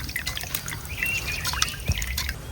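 Water drips and trickles into a pan as laverbread seaweed is washed clear of sand, with small close splashes and droplets over a faint background hiss.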